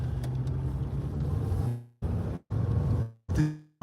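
A car approaches and passes in a narrow lane, its engine loud and close, then cuts off abruptly in gaps as short bursts of vehicle noise follow.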